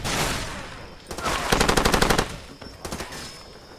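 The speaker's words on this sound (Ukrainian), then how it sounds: "Так, хто там стріляє?" In Far Cry 2, automatic gunfire crackles in loud rapid bursts, a long rattling volley in the middle followed by a shorter burst, over a noisy game background.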